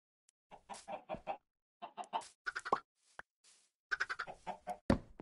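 Minecraft chickens cluck in short bursts of choppy calls, several groups spaced through the moment, close and clear with near silence between.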